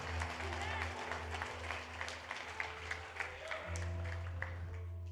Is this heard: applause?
yes